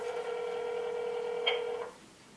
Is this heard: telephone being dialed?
yes